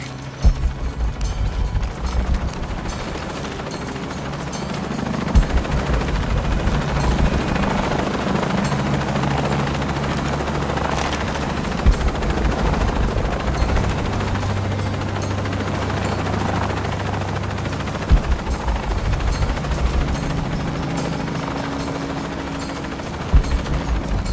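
A helicopter's rotor thrums loudly and continuously in Shadow of the Tomb Raider, with occasional sharp bursts of gunfire cutting through the steady mechanical roar.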